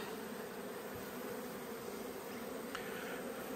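Honeybees buzz at an open hive in a continuous, fairly faint drone, a steady swarm hum with occasional closer passes.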